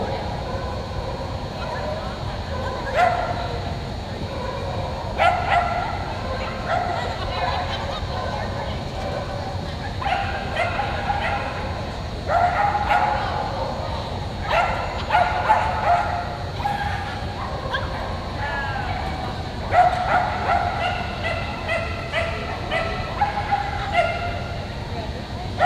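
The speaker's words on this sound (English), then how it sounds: "That was miniature poodle" A miniature poodle barks and yips repeatedly during an agility competition run at the UKI US Open, in bursts of sharp, high barks across the run, with an announcer's voice and arena noise underneath.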